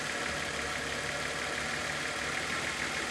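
A Datsun 280ZX engine idles close by with a steady, rough mechanical rumble and a broad hiss, its note wavering slightly but never revving, and no voices over it.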